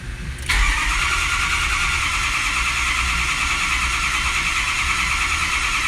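A car engine turning over slowly on the starter, a steady continuous mechanical drone that begins abruptly about half a second in and holds at even loudness, close by and alone with no talk.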